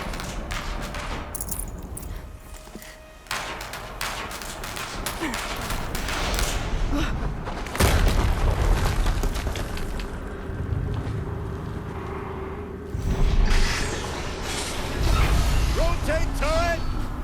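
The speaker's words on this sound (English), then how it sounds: "Another explosion." Repeated heavy explosions from the video game Horizon Zero Dawn Remastered, loud booming bursts over a dense rumbling battle soundscape.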